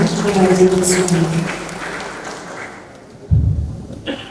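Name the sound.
audience applause at launching event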